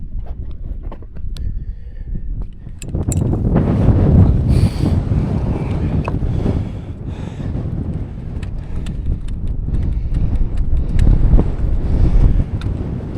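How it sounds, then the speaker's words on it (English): Strong gusts buffet a microphone on Middle Fell, a Lake District summit above Wasdale, producing a loud, continuous low roar that swells sharply after about three seconds and stays rough and rumbling throughout, with no voices. "It's a bit breezy up here."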